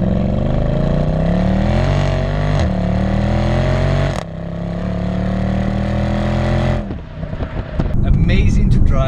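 A Mercedes-Benz C63 AMG Black Series with a 6.2-litre naturally aspirated V8 revs hard in a series of rising, roaring pulls, briefly easing off between blips before settling to a lumpy idle.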